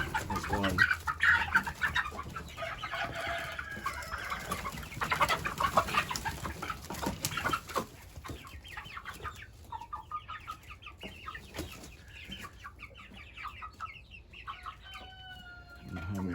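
Meat chicken hens clucking and squawking nearby in a pen, busy and loud at first with scattered calls, then settling into softer intermittent clucks, with little talk.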